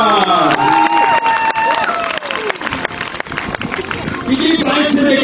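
At the Riegersburg medieval festival tournament, a large audience claps and cheers loudly and continuously while an announcer's amplified voice carries over the top.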